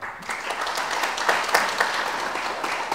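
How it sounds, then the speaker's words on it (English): Applause from an audience at a UX and data talk on machine learning data labeling, given for the event volunteers: steady, dense clapping filling the room for about three seconds with no voice over it. "For our volunteers, give a round of applause,"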